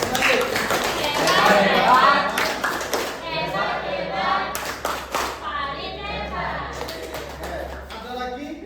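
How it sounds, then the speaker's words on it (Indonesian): A group in a university classroom session breaks into sustained applause, dense hand clapping that swells then tapers over several seconds, with people talking and children's voices mixed under and between the claps. "Kasih aplaus."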